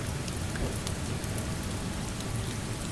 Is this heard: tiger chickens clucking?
no